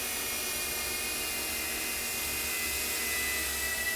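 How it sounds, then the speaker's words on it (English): A DJI Flip drone flies outdoors in a forest with a steady, high-pitched whine and buzzing hum. The sound is loud and continuous throughout, heard alone. "all I could hear was this drone"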